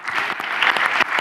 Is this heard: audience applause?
yes